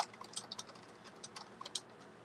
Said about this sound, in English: I'm sorry if you hear me typing. I'm going to get a quieter keyboard.